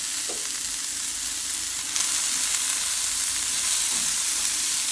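Vegetables sauté in coconut oil with cumin and turmeric, a steady close sizzle and crackle of frying with a few faint stirring knocks and scrapes, no talking.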